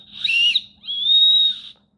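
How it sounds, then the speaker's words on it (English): A small plastic survival whistle from an outdoor emergency kit is blown twice in quick succession, a short shrill blast followed by a longer steady one, loud and close with no talking. "Pretty sure that's a whistle."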